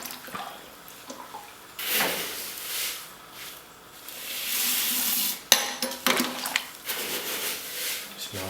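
Malted grains poured a bit at a time into heated mash water in a Grainfather brewing system, with rushing pours, sloshing and clinking stirring at close range, in uneven bursts.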